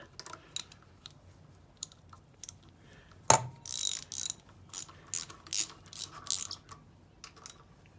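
A ratchet turns a 7/16 socket on small quarter-inch thermostat housing bolts of a Land Rover Series 2A, giving quiet, close clicking in short bursts with pauses between them.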